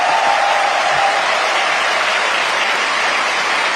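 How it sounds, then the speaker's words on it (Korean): A church congregation applauds, a dense and loud wash of many hands clapping continuously at an even level throughout. "이쯤 되면 박수 한번 해주셔야죠"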